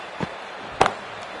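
A cricket bat strikes the ball in Cricket 24, with a soft knock and then a sharper, louder crack a moment later, both brief and set against a low steady background hum.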